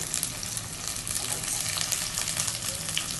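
Tomatoes frying with garlic in a pan for gongura pachadi, producing a constant close crackling sizzle with light bubbling, steady and moderately loud throughout.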